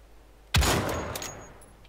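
Gunfire in the shooter game Wolfenstein: The Old Blood: one sudden loud shot bursts in mid-clip and decays over a second, with a few faint sharp cracks following.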